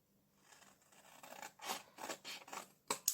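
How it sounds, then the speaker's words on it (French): Scissors snip through folded paper in a few short rasping cuts, quiet and close, with soft rustling beforehand and two sharper snips near the end. "Maintenant, avec nos ciseaux, on va venir couper ce triangle-ci."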